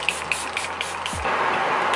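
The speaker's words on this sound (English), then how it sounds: "I'm gonna go in one more time with my setting spray." Makeup setting spray is misted onto a face in short puffs, followed by a longer, steady hiss close to the microphone. No one speaks.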